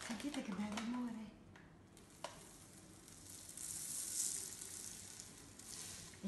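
Quinoa seeds are handled and poured over black cardboard on a table, giving a soft, faint, continuous rustling patter with a few light taps.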